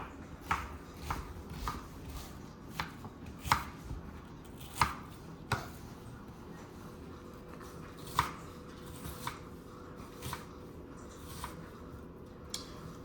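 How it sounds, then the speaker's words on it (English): Knife chopping onion on a cutting board, a series of crisp irregular taps at a relaxed pace, moderately close over a faint background hum. "So the next step is we're gonna cut out half a cup of onion. We're gonna chop it."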